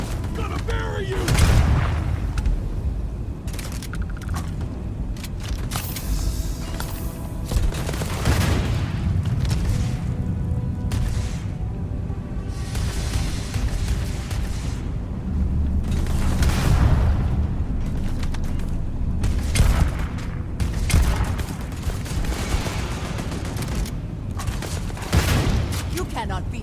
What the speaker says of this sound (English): We got a rocket launcher or something over there.